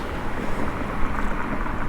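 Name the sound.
strong wind blowing on bike ride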